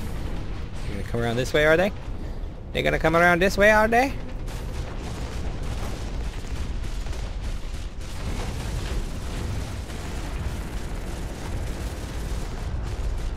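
Heavy weapon fire and booming blasts in the mech shooter Hawken roll on steadily and loud, with someone talking over the din near the start.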